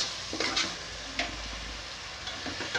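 Ginger garlic paste frying in oil for a ridge gourd and tomato curry, a soft steady sizzle with occasional stirring scrapes, close and fairly quiet, no talk.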